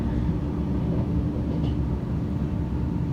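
A train pulling into a Tokyo station, heard as a steady, loud low rumble of wheels and carriage noise that holds evenly throughout with no talk.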